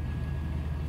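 A 1991 Cadillac Brougham D'elegance engine on a 38-degree morning gives a brief, steady low rumble, heard close with no other sounds.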